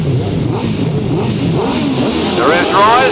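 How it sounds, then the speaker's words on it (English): 1000cc methanol-burning right-hand grasstrack sidecar engines rev hard at a race start, the pitch climbing toward the end, heard beneath loud continuous commentary. "The revs rise, and off they go again, another cracking start."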